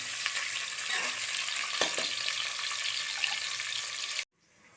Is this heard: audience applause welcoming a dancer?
no